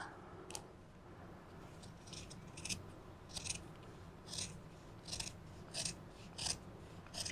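Scissors cut through moccasin leather in a series of crisp, rasping snips, about nine separate cuts at an irregular rhythm, close and fairly quiet with nothing else heard.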